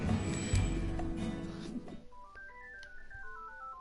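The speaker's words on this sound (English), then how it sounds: "my phone's going off in the background" A mobile phone ringing in the background during play of SAO The Lost Song, a bright stepping melodic ringtone emerging after a burst of busy game sound.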